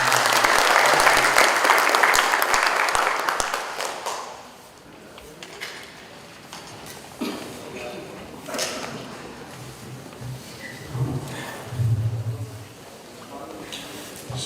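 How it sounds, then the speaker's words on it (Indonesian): An audience applauds warmly to welcome a speaker at a national working meeting of a disaster management body. The clapping is loud for about four seconds, then fades to scattered handling noises and murmurs. "kita sambut dengan tepuk meriah Kang Emil memberikan sambutan"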